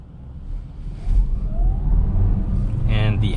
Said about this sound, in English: the engine just turned on because when you hit the gas hard, the engine turns on